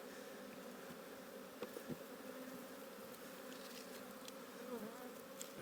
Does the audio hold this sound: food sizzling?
no